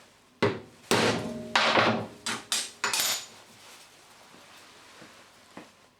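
A punch is hammered through a metal TV bracket stretcher plate: about seven sharp metallic strikes come in uneven clusters, close and clear, with a few faint taps trailing after.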